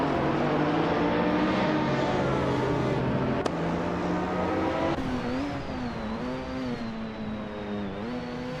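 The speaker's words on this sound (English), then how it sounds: "Shadow Army is driving a 2009 Mazda B09 86" Video game race with several racing cars, including a 2009 Mazda B09 86, engines droning loud and continuous with shifting revs and gear changes across the whole stretch, one sharp click near the middle, no voices.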